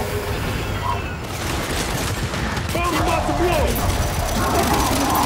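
Rocket salvo in Gears of War 5, a rapid fusillade of blasts and gunfire crackling continuously and loudly for several seconds, with a voice speaking over the barrage.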